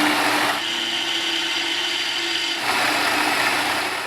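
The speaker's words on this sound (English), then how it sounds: "go ahead and drill your holes out" Power drill boring holes in a trailer hitch area for mounting a 7-way plug junction box, a loud steady whine that stops briefly, then resumes at a slightly different pitch, close by with no talking.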